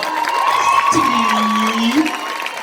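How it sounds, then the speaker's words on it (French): A cinema crowd at a film premiere cheers and whoops for the director, shouts rising over steady clapping, loud and close, with a sustained high cheer in the middle. "pour l'applaudir très fort"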